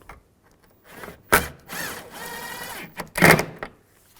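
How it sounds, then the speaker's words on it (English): A power drill tightens screws on a taillight of a 2015-2020 GMC Yukon, running in several short whirring bursts separated by brief pauses, close and fairly loud. "Take the screws, line the screws up. And tighten those down."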